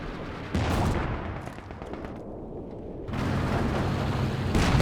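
An artillery barrage in the World War II strategy game Company of Heroes 2 rumbles through a continuous layer of distant explosions and crackling shellfire, swelling louder after a brief dip.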